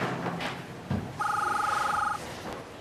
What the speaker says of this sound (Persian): خانم جباری نمیخوای تلفن رو جواب بدی؟